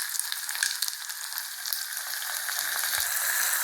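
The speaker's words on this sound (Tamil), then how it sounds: "அதான் தக்காளி நல்லா வதங்கும்." Tomatoes sauté with salt in a pan for a tamarind kuzhambu, giving a continuous bright, close frying sizzle with a few faint utensil taps.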